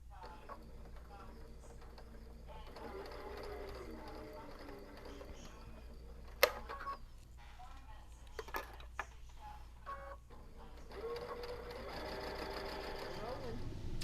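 A sewing machine stitches the clipped-shut end of a fabric roll-up organizer in quick motor-driven bursts, close and fairly quiet, with short pauses and faint handling clicks between runs.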